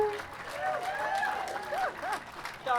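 Wedding guests cheer and applaud right after the newly married couple's kiss, a crowd roar of voices with a broad clapping wash, loud and close throughout, with one voice rising above the crowd near the end.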